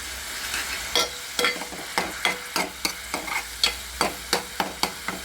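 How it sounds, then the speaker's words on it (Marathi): Grated onion fries in a hot pan, a continuous sizzle broken by a regular run of about a dozen sharp spatula scrapes and taps, close and clear with no talk. "किसलेला कांदा त्यामध्ये भाजायला टाकलेले"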